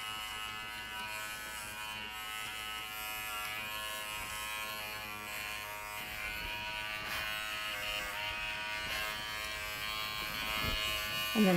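A Wahl Figura lithium-ion cordless clipper trims a Standard Poodle around the tail set, giving a quiet, steady electric buzz that holds evenly throughout with small shifts as the blade moves through the coat.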